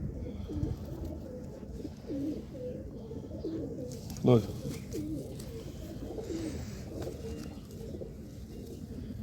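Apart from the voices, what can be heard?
pigeons cooing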